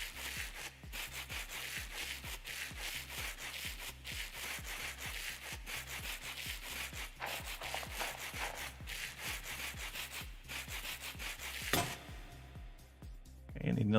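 Rhythmic sandpaper rubbing in Minecraft with the Create mod, a quick regular scraping stroke repeated steadily for many cycles, then a brief different clatter near the end.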